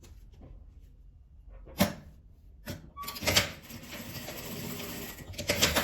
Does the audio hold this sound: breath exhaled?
no